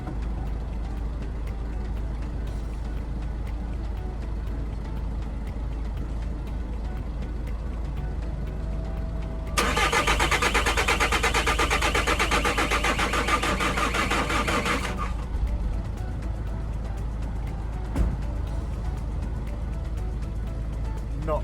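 A VW Crafter van with a snapped timing belt and unbled injectors cranks over on a weak battery in one sustained, broadband burst of roughly five seconds. The car does not catch, and quiet stretches come before and after.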